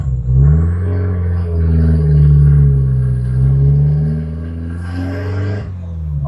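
An Audi turbo car running an ethanol tune with a T5000 injection setup pulls away, its engine giving a loud, close, deep droning rumble that rises and eases slightly before fading.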